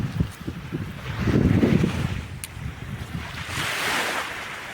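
Sea waves wash in at Wakra Beach, a broad rolling surge that swells and recedes under steady wind buffeting the microphone, with no voices present.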